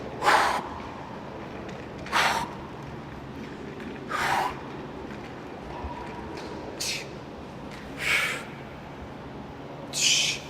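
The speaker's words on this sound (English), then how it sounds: "Once again, you can really hear that breathing." Heavy breathing during an ab exercise, six sharp forceful exhalations spaced about two seconds apart in a steady rhythm, close and loud against a quiet background.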